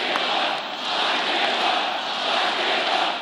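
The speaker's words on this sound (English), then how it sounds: "at rallies, where crowds chant," Rally crowd chanting "Lock him up" at a political rally, a dense wash of many voices sustained throughout with gentle swells, steady and fairly loud, no single speaker standing out.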